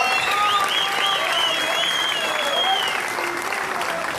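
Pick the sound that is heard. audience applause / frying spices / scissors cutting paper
audience applause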